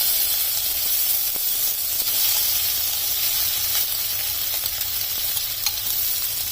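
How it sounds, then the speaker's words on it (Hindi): Red and green chilies sizzle in hot oil, producing a loud, continuous hissing crackle heard up close with occasional faint stirring ticks. "तेल गरम हो गया है, इसमें मैं थोड़ी सी रेड चिली, ग्रीन चिली डालूंगी"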